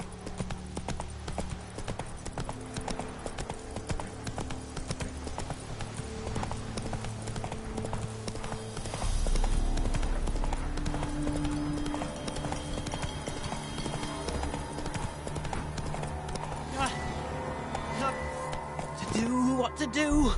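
Horse hooves gallop in The Witcher 3 on PS5, a quick rhythmic clip-clop running steadily beneath game music and voices, with a heavier thump partway through.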